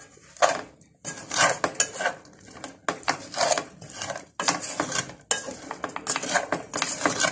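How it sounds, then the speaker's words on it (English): A spoon stirs sweet potatoes around a pot, scraping and clinking against the metal in repeated strokes with short pauses between bursts, close and alone. "We will mix it all up."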